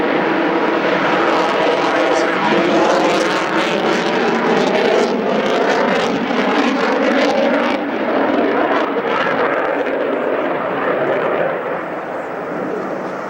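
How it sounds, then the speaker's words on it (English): Aircraft roaring past during a Battle of Britain Day sunset air display at Biggin Hill, a loud continuous engine drone with a broad, swelling rush that holds steady throughout, with no talk over it. "What we got now in front of us is Ray Hanna in the front aircraft"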